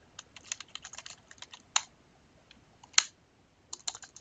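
Fast, uneven clatter of keys on a computer keyboard while entering commands in Azure PowerShell, close and crisp, with short bursts and pauses between them and no talking.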